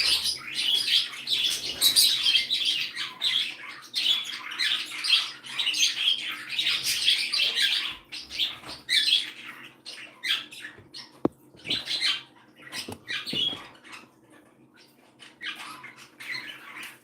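Many pet birds in an indoor bird room chirp and squawk continuously for the whole stretch, a dense overlapping chorus of high tweets with occasional sharper calls and brief pauses.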